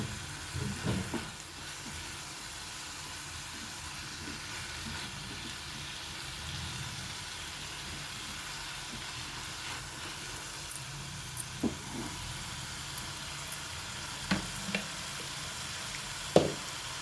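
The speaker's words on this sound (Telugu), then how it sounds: "అల్లం వెల్లుల్లి పేస్ట్ కూడా వేసేస్తున్నాను" Ginger garlic paste sizzles and fries in a pan for an egg and taro-leaf tamarind curry, a steady soft hiss with occasional light knocks of a spoon against the pan, with no one speaking.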